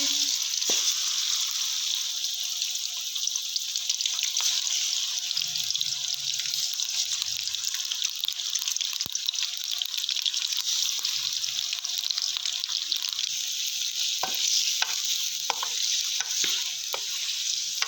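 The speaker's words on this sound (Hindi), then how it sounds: "अब मटन की आपने उस वक्त तक भुनाई करनी है जब तक कि इसका कलर चेंज नहीं हो जाता।" Mutton pieces frying with cinnamon in a kadhai, a steady bright hiss of hot oil throughout, with scattered sharp crackles and a few scraping stirs near the end.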